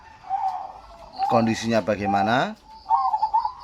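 Young zebra dove, a perkutut just weaned, cooing in a rolling, throaty run of harmonic coos at mid distance, with a voice talking before and after.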